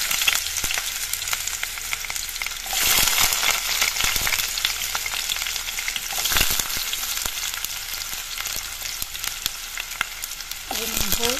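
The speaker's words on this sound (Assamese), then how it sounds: "ইতিমধ্যে কেৰাহীটোত মই তেল গৰম হ'বলৈ দি দিছো ইয়াতে এতিয়া পিয়াজখিনি দি দিম" Chopped onions hitting hot oil in a wok give a loud, continuous sizzle with crackling spikes and occasional scraping stirs, heard alone without talk.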